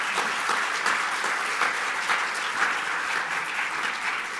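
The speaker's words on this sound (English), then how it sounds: "A huge round of applause for our panel." A conference audience claps steadily and warmly for several seconds for a panel, a dense, even patter of many hands.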